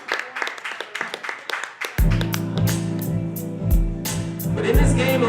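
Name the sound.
audience applause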